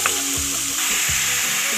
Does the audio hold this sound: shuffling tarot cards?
no